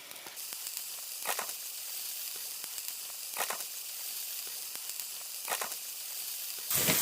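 A quesabirria taco sizzles on a griddle with cheese, a soft steady hiss running throughout with a few brief louder crackles at regular intervals, fairly quiet and close, no voices.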